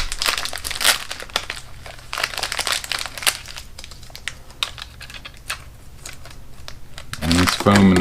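Tape and packaging being pulled off a Bambu Lab P2S 3D printer, a series of close, sharp crinkling and tearing crackles in irregular bursts, with a louder rustle of material near the end.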